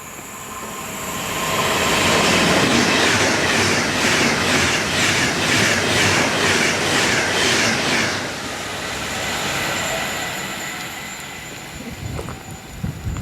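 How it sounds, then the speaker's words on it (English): A Pendolino passenger train on the West Coast Main Line in East Cheshire rushes past close by, loud and roaring, with rhythmic clacking of wheels over rail joints that fades as it moves away. "I seem to be getting blown a lot by a lot of trains today. That was a Pendolino."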